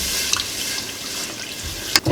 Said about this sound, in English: you're gonna get your 4 cups of water with your bouillon. Stir it in